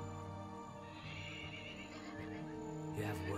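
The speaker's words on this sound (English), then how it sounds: "My horse is bolting extremely slowly." A horse neighs in the video game Oblivion, a whinny rising over steady background music with faint hoof clip-clops, fairly quiet in the mix.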